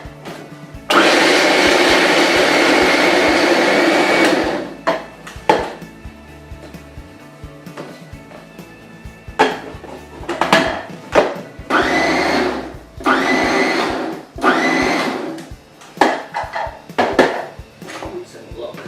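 A blender whizzes nuts and dates into a raw vegan cheesecake base, one loud sustained run followed by short pulsed bursts and clattering of dishes and utensils between them.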